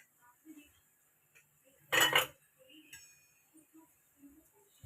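A steel spoon clinks and scrapes against a pan on a gas stove while a spoonful of ghee is added before roasting rice for kheer, one bright clattering burst amid quiet kitchen sounds and soft speech.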